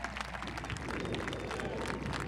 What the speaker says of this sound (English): Let's give a big round of applause for serving our country.